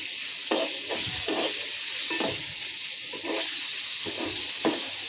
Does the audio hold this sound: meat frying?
yes